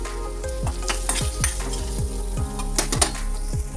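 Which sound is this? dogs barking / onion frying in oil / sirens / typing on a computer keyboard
onion frying in oil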